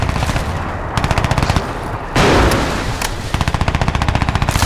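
Loud automatic gunfire from the video game Crysis 2 rattles in rapid bursts, with close, punchy volleys separated by brief gaps and a heavier blast in the middle.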